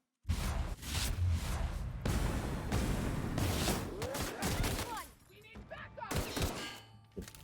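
Video-game gunfire from The Outer Worlds, a dense burst of loud cracks and whooshes for several seconds, then scattered shots with impact and ricochet sounds, a voice briefly heard over it.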